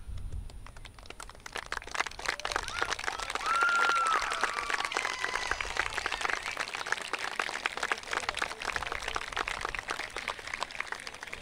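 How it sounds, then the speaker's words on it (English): Crowd applause at the Firebaugh High School graduation ceremony honoring parents of graduating seniors, a dense, steady clatter of many hands clapping that carries on for several seconds with no voices over it. "would you please join me in applause in recognizing their roles in their students' lives"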